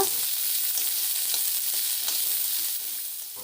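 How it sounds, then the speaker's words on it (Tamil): Onions sautéing in a pan, a continuous bright sizzle with soft stirring scrapes that eases slightly toward the end, no voices. "அந்த வெங்காயத்தை நம்ம போட்டு நல்லா வதக்கி கொடுக்கலாம்"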